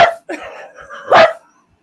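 Dog giving a few short, loud vocal barks and yips in quick succession, close by and alone, ending in quiet.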